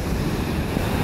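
Ocean surf with steady, dense broadband wash and heavy wind buffeting on the microphone, loud and continuous over the whole short stretch with no voices.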